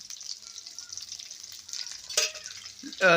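Oil frying in a pan as a bombil (Bombay duck) fish curry begins cooking, a faint steady sizzle with a couple of louder clatters and stirs near the end.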